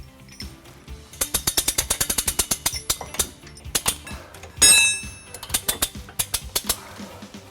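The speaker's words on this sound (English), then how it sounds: "We're going to be using our U-Haul exclusive hitch jack." A U-Haul hitch jack ratchets rapidly as it raises a heavy trailer hitch under a 2011-2021 Jeep Grand Cherokee, bursts of sharp rhythmic clicks with a brief louder clunk midway, close and clear.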